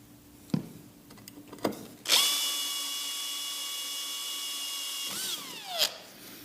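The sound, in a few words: unibit step drill cutting holes in metal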